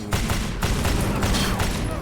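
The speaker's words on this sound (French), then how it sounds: "Oh le flingue il a un bon feedback." A gun fires in the Wanted video game, delivering a rapid volley of loud, punchy shots in quick rhythm over about two seconds, with a voice faintly in the background.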